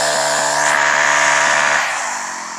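A chainsaw runs loud and close outdoors, holding a steady high-revving whine before the engine note drops and eases off near the end.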